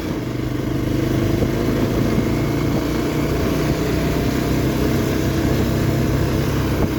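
A motorcycle rides over a rough, potholed rural road, its engine droning loudly and steadily throughout with continuous rumble and rattling, no speech.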